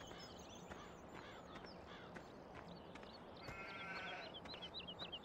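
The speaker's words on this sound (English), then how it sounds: "There's the sheepies." Sheep in the Farming Simulator 17 video game bleat in short, repeated calls at a distance over a steady background hum, with a couple of louder bleats toward the end.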